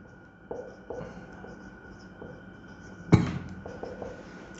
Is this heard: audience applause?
no